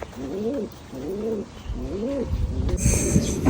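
A pigeon coos close by in three rolling, throaty phrases, followed by a burst of rustling noise.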